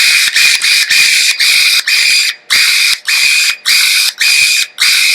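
Koham electric pruning shears whirring through repeated open-close cycles, about a dozen short, loud mechanical buzzes in quick rhythm separated by brief gaps.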